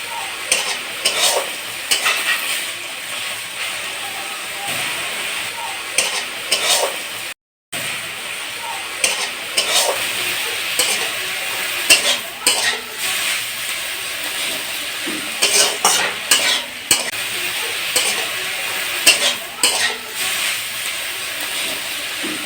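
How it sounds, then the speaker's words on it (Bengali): Drumstick flower fritters fry in hot oil with a steady close sizzle, broken by repeated scraping and stirring clicks of a utensil in the pan. "ওগুলোকেই ভেজে আপাতত খাবো"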